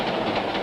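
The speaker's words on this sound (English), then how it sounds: "The train must have jerked just then." A train rolls along rails with a steady rumbling clatter, moderately loud and alone, no voices heard.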